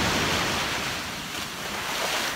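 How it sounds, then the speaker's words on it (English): Ocean surf washes around someone wading in the sea, a continuous loud rushing wash with wind noise and no speech. "it is really hard to walk in this in these waves"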